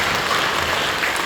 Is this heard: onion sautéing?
no